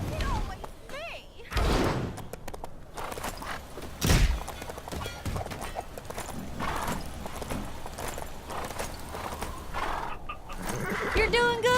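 A horse in the Old West area of the LEGO Marvel Super Heroes 2 video game clip-clops and whinnies amid game effects and a thud, with voices speaking over it.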